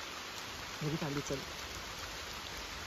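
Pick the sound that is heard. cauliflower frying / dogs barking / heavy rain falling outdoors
heavy rain falling outdoors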